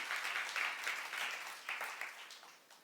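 A church youth congregation claps together during a sermon, a rolling wash of applause that swells early and slowly fades toward the end, with no one speaking over it.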